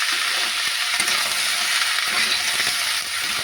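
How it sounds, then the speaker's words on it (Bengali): Potatoes, cauliflower and carrots fry in oil with salt for vegetarian khichuri, a steady close sizzle with soft stirring scrapes underneath, no talking. "নুন দিয়ে নাড়বো"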